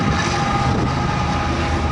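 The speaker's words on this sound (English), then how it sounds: "Sorry about the train." A train rolls past close by, a steady broadband rumble with dense low-end rattle holding at constant loudness throughout, with no voices.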